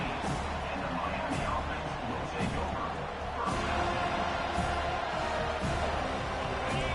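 Football stadium crowd at a Florida State versus Miami college game roars in a steady, distant wash of cheering and crowd noise under a play-by-play commentator's voice.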